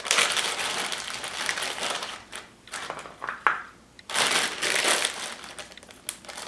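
Plastic packaging crinkles and crackles loudly and close up in dense bursts while being handled and pulled off stir-fry ingredients, with a short quieter pause midway.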